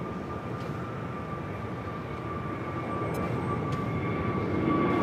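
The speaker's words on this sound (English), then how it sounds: "Next takeoff is Avianca, flight 525, heading to San Salvador." An Avianca Airbus A320neo takes off at LAX, its engine roar a constant broad rumble with a steady tonal whine, holding loud and building slightly toward the end.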